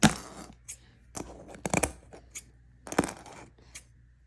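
Knockoff Lego zombie figure being cut with scissors, a string of sharp plastic snips and clicks in irregular bursts, close and fairly loud with quiet gaps between.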